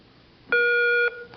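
Quiz show buzzer as a contestant rings in at a high school academic challenge, a single clean electronic tone lasting about half a second in a quiet room.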